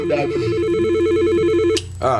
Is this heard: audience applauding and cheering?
no